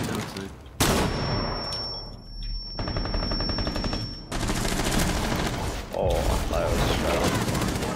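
Rapid gunfire bursts during a competitive video game match, loud and close with sharp onsets, a brief ringing tone and shifting shots over about eight seconds, with faint voices underneath.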